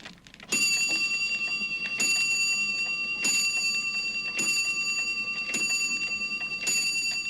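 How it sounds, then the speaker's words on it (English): A shop doorbell rings out in bright, metallic pings, about six evenly spaced strikes, each ringing on and fading, loud and clear with no speech. "ping went the shop's doorbell"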